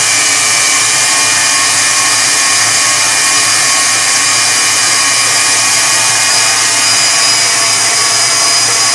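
An electric mixer whirs steadily while blending cheesecake batter, a loud, constant high-pitched motor drone that stays unbroken and dominant for the whole stretch.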